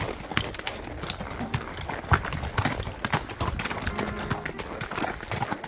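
A horse ridden bridleless along an uphill trail, its hooves clip-clopping in a steady, close walking rhythm, with an occasional snort or soft whinny and no talk.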